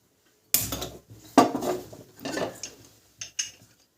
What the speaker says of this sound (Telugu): కుక్కర్ పెట్టుకుందాం